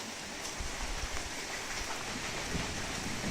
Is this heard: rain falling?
yes